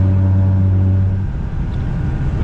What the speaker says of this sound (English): I'm trying to drive this rough truck.